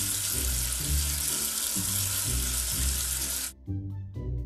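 Running water rinses soap off a letter in a children's educational alphabet game, a steady rushing splash under a soft repeating musical loop, cutting off abruptly near the end.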